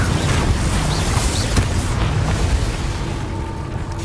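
Spell blasts from the Hogwarts Legacy video game land as a dense, booming rumble with crackling bursts, loud and continuous, with a sharp pop near the middle.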